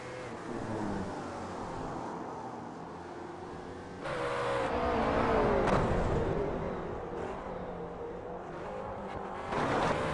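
Race cars in a Grand Am sim racing game, McLarens battling for position, engines droning and revving steadily throughout, rising in intensity partway through as the cars push hard together.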